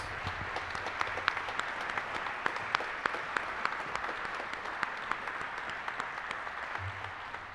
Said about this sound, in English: Can we get a round of applause for this year's 2025 class?